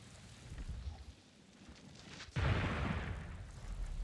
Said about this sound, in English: I ascertained that that was just lightning or whatever that I heard before